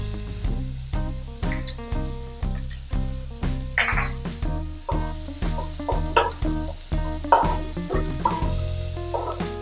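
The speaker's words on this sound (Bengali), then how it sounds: "এবার এটাকে আমাকে নেড়ে দিতে হবে যতক্ষণ না একটু ভাজা ভাজা হয়।" Aloo chop filling is stirred in a frying pan with a light oil sizzle underneath, while a utensil strikes and scrapes the pan in a regular, repeated clinking rhythm up close.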